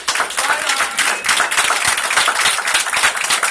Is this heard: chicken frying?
no